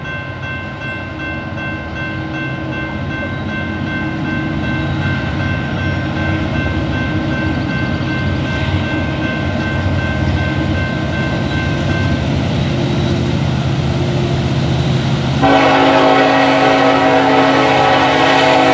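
A Norfolk Southern freight train led by C40-9W and SD70ACE locomotives roars past at full throttle, engines droning loudly while a K5LLA air horn blows long sustained chords, swelling louder near the end.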